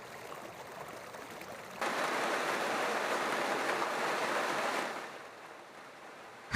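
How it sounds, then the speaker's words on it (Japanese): Heavy rain pours down in a dense, steady hiss that comes in suddenly, holds for a few seconds, then eases off. "激しく降る雨"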